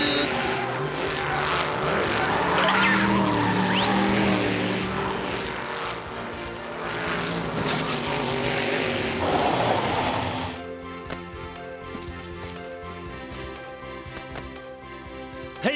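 Cartoon dirt bikes and dune buggies race at full throttle, a loud, steady high engine roar and whine filling the first ten seconds before giving way to a lighter, tonal background; a voice briefly cuts in.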